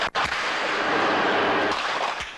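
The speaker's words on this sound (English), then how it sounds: "The first gunshots rang out shortly before 6." A sharp blast opens, followed by a dense, rumbling wash of noise that persists loudly throughout, like distant gunfire echoing amid commotion, during the 1985 MOVE house bombing in Philadelphia.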